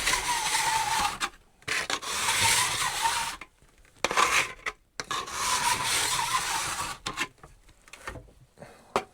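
A bump on the base of an OAC glide snowshoe ski is ground down in several close, harsh abrasive strokes, each a rasping burst lasting a second or two, separated by brief pauses.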